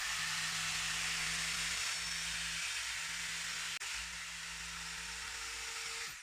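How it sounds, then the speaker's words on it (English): A Bosch electric foam knife saws through sofa cushion foam with a steady, close, hissing motor whine that runs unbroken except for one sharp click midway and fades slightly toward the end. "What I'm going to do is use my Bosch foam knife, cut straight across my blue line."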